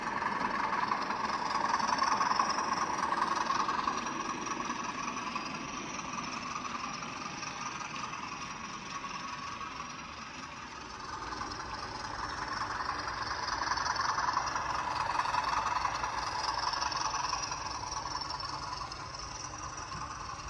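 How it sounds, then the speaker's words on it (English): A Class 20 diesel locomotive rumbles past with a steady throbbing engine drone and rolling rail noise, rising and easing as it goes by at moderate distance. "What a lovely train coming along here, the Class 20."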